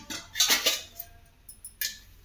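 Bronze pots and plates clink and clatter as they are handled, giving several bright metallic knocks in quick succession followed by a quieter pause and two more sharp rings, with no voices.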